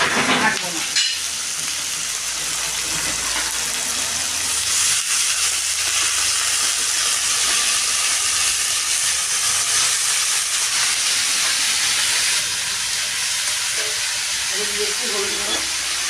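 Onions with salt, then fresh garden greens, fry in a pan, giving a constant loud sizzle and hiss with occasional stirring clatter and a brief voice near the end.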